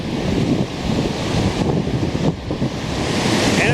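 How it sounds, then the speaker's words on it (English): Lake Superior surf washing steadily onto a beach shoreline in strong October wind, a continuous broadband rush of breaking waves mixed with gusty wind buffeting the microphone, loud and unbroken throughout. "I'm always just blown away by the shoreline washing away like this"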